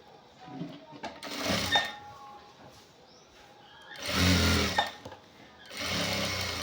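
A sewing machine stitching the shoulder seam of a checked shirt runs in three loud, close bursts of rapid whirring, each about a second long, separated by pauses in which a person speaks.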